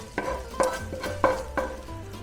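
Stir fry for a seafood Thai green curry sizzles in a hot pan, with a series of sharp, close stirring scrapes and clinks at a steady rhythm over the frying hiss.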